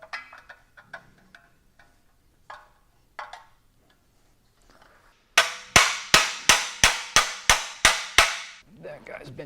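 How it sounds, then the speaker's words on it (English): A run of sharp metallic hammer-and-punch strikes reshaping VW engine tin sheet metal in quick succession, loud and close, after quieter scattered taps and clinks. "I'm going to try to take a hammer and a punch and reshape that"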